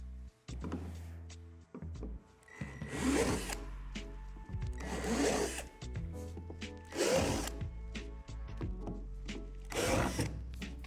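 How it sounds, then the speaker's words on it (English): A power drill bores holes through the plastic slide of a Lifetime Adventure Tower playset, in several loud whirring bursts separated by short pauses. "Then drill out the 4 holes at the bottom of the slide."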